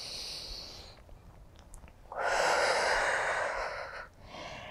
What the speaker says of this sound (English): listening to the sound of your breath from here on out to the end of this practice